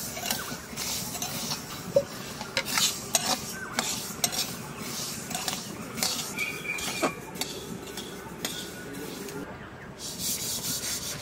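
Black and white seeds dry-roasting in a hot, dry pan for kasundi mango pickle, stirred with a utensil in repeated scraping, rubbing strokes and occasional light metallic clinks, close and moderately quiet.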